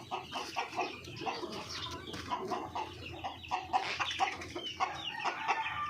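Native Darag chickens cluck and chatter in short, overlapping bursts while being fed fruits and vegetables, with a few wing flaps and a low background rustle throughout.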